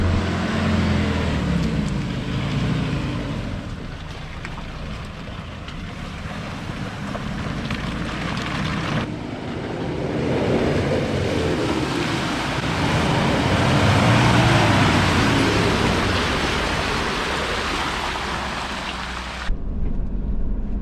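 A 4x4 in the NSW High Country edges slowly over an obstacle, its engine droning steadily and tyres grinding and spinning, with wind and rumble throughout and no talk.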